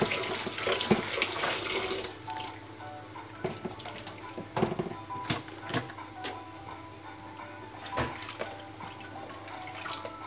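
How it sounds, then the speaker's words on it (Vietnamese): Running tap water splashes over cut orange peel in a sink, a steady rinse with irregular clatter and handling knocks throughout, no talking. "Sau khi mình cắt xong cái vỏ cam của mình thì mình sẽ rửa lại thêm bằng nước nữa nhé."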